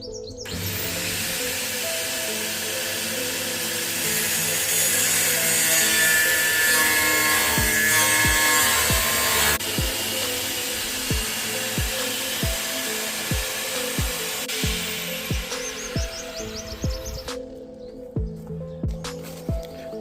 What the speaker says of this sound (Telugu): ప్రతి ఒక్కరి దగ్గర యాంగిల్ గ్రైండర్ ఉంటే మంచిది